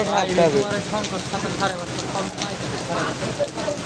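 Heavy rain falls in a constant dense wash, with voices talking over it the whole time.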